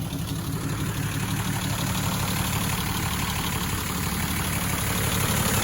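A Datsun 260Z engine idles right after its first start, giving a steady, loud, close mechanical drone with a slightly uneven, rough texture and no voices.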